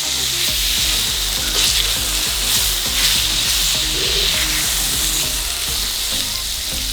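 Steaks sear loudly in a hot pan, a dense, steady close-up sizzle and crackle with faint scraping as the meat is turned over, continuous throughout without speech.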